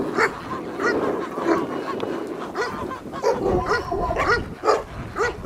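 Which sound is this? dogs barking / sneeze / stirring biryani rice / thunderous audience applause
dogs barking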